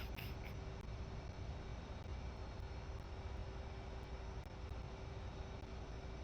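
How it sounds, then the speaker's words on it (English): Jet afterburner roar in a flight simulator game, a constant broad rumbling engine wash with a faint steady tone, unbroken and even throughout. "He wants an afterburner burn."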